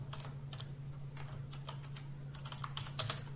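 Fingers type a group name on a computer keyboard with quick, uneven clicks and short bursts of keystrokes, close and clear over a steady low hum, with no talking.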